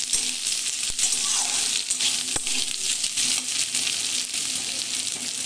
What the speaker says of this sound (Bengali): হয়ে গেলে আলুটা দিয়ে দেবো, আলুটা দিয়ে লাল লাল করে ভেজে দেবো।